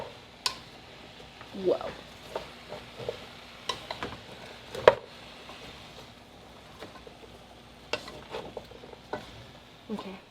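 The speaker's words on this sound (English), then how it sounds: "let's give these a nice stir." Food being stirred in a pot on a home stove, scraping and clinking of a utensil against the pot at irregular moments over a soft sizzle, with a brief exclamation from a person.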